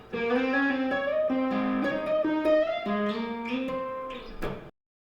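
An electric guitar plays the opening section of a riff: a melodic line of sliding, sustained notes with tapped accents, close and steady for about four and a half seconds before stopping abruptly, no talking.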